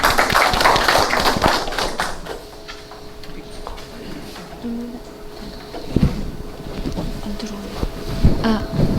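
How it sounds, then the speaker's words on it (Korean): An audience at a lecture on apple winter pest control claps in a short burst to welcome the speaker, then the applause fades to scattered taps and thumps with wind noise. "박수로 모시겠습니다."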